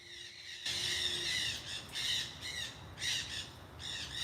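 Parrots squawk in a garden in Los Angeles, repeated harsh raspy calls in rhythmic bursts, moderately near and loud over steady outdoor background.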